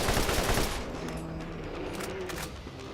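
Gunfire in Borderlands, a burst of rapid automatic shots that is loudest at the start and then trails into rumbling fire and game noise.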